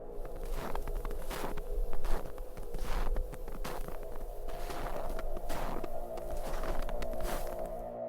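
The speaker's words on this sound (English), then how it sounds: "I heard footsteps, slow and crunching on the snow, circling our camp" Slow footsteps crunching on snow around a Himalayan mountain camp at night, a series of crisp, evenly spaced crunches close by over a low ambient drone in a horror story.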